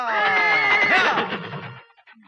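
A horse in a G.I. Joe cartoon gives a loud, close whinny with a bright, shaking pitch, falling away toward the end.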